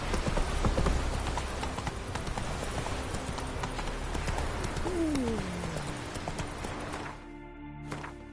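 Galloping hooves of Roach, Geralt's horse in The Witcher 3, beat in a steady rhythm across a busy game soundscape with birds, then cut off abruptly near the end.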